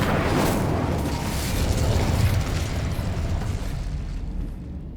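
Spells like Depulso and Incendio cast in Hogwarts Legacy set off a loud, sustained booming blast with a rumbling roar that slowly thins and fades away.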